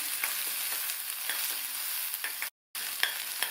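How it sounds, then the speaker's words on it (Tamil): Green chillies, shallots and garlic sautéing with dal, a soft steady sizzle with light stirring clinks and scrapes, briefly cut to silence for a moment before resuming, no voices. "அது கூட 5 பச்சை மிளகாய், கீரின பச்சை மிளகாய், அது கூட 7-8 சின்ன வெங்காயம் கட் பண்ணது, 3 பூண்டு, இதையும் இது கூட சேர்த்து வதக்கிக்கலாம்"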